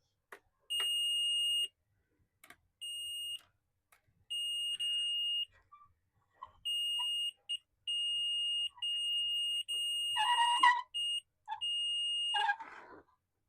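A continuity tester beeps in steady high tones while model railway turntable wiring is checked. The beeps come in irregular bursts of about a second, close and clear, with brief gaps and a few short clattering handling sounds near the end.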